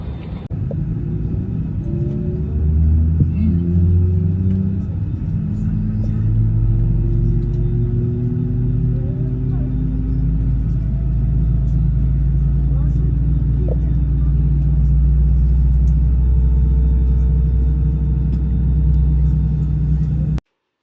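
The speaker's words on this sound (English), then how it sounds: "Second time we pushing back from the gate." Airliner pushing back from the gate, heard from inside the cabin: a steady low engine and ground-equipment rumble with rising whine tones, continuous throughout at a moderate, close level.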